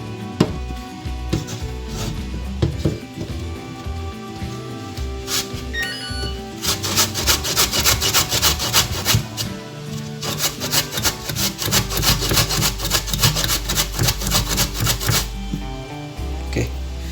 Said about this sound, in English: Now I'm going to grate the cassava.